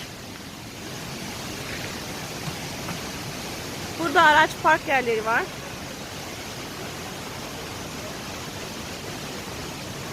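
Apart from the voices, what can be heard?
Palovit waterfall rushing in Rize, Turkey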